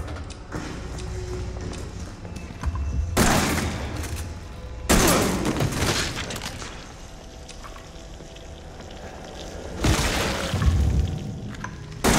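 Gunfire in the survival horror game Resident Evil 7 biohazard comes in several loud bursts of sharp, rapid blasts with quieter stretches between them, over a low game background with no talking.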